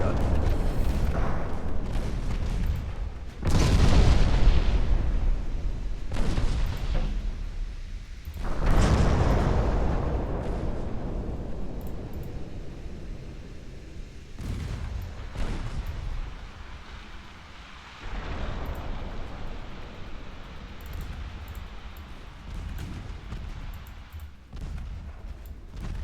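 Heavy naval gunfire from warships in Ultimate Admiral Dreadnoughts: deep booming salvos with long rumbling decays, several loud blasts spread over the span under a steady low sea and engine drone, with faint talk at times.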